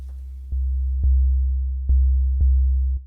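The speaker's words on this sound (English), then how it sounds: "I have a phase plant preset here with a simple sine wave generated." A pure, steady sine wave from a Phase Plant synth preset, a loud low hum held throughout with small clicks where its level steps up and down every half second or so.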